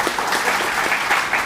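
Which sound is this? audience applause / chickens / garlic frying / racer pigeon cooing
audience applause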